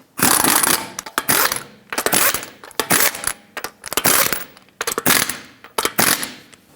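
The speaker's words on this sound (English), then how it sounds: "Put on all 5 of your lug nuts, bottom them out, and torque them to 83 foot-pounds." Lug nuts being fitted and tightened on a wheel of a 2013-2020 Nissan Pathfinder, heard as close, repeated metallic rattling and clicking bursts in an uneven rhythm.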